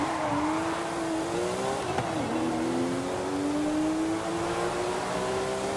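A rear-wheel drive car in Forza Horizon 5 races with a loud, sustained engine note that climbs through the gears, dips at one quick shift, then keeps pulling, with a faint tire squeal underneath.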